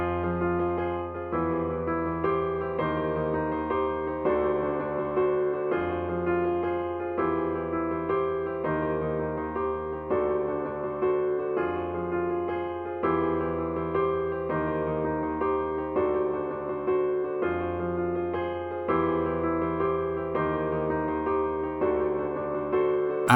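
Repeating piano chords from an Arturia software piano with sample delay roll on steadily and evenly, a continuous layered pattern of sustained chords with no voices over it.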